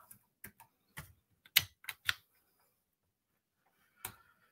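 Computer keyboard keys clack close by in scattered, irregular clusters of separate taps, with quiet gaps between them and a final lone keystroke after a pause.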